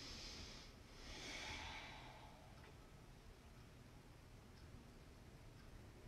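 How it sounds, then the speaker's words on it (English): A slow, soft breath in and out during a yoga session, heard faint and close with a gentle exhale early on, followed by quiet room tone. "One more breath in and out."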